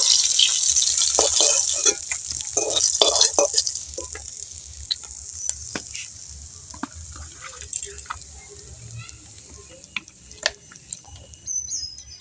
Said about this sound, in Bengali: এই মাছগুলো আমি একইভাবে ভেজে নেব